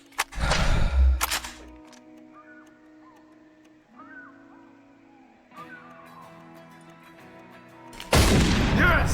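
Hunting rifle shots in Cabela's Big Game: a loud sharp report near the start and another at the end, with quiet ambient game sounds and soft tonal chirps in between.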